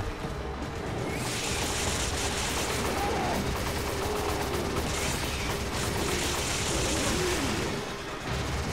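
Steady automatic gunfire in the video game Resident Evil 5, a continuous dense rattle of shots lasting nearly the whole stretch at an even, fairly loud level with little else over it.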